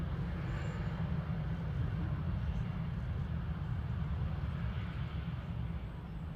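A Brussels Airlines aircraft crossing the runway at Manchester Airport, a steady distant jet roar and low rumble held evenly throughout, faint and alone.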